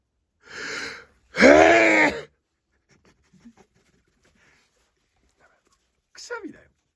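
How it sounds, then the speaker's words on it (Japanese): A full-force human sneeze sounds close and loud, with a sharp gasping intake followed by an explosive burst. Quiet follows, broken by faint small sounds and a short voice near the end. "くしゃみだよ。"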